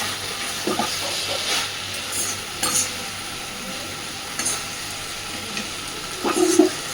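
Kochur loti (taro stolons) simmering in a pot as the water cooks off, giving a steady soft hiss and sizzle with scattered faint bubbling pops, close and low in level throughout.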